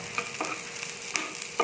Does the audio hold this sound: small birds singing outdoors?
no